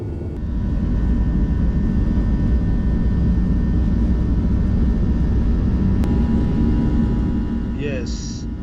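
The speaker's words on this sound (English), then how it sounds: "Going for takeoff." Cabin view of a jet airliner's takeoff roll on the runway at an airport near Washington DC, with a steady, loud, broad engine roar and rumble, a single sharp click midway and a faint chime near the end.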